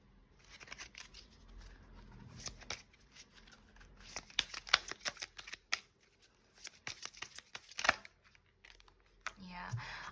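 Tarot cards being shuffled and handled, a close, crisp series of irregular riffling and snapping bursts with papery rustles across several seconds, fairly quiet overall.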